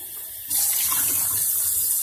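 Tap water from Flint, Michigan gushes from a faucet into a sink, a steady bright hiss and splash that starts abruptly after a moment of quieter background and then runs on continuously, close and loud.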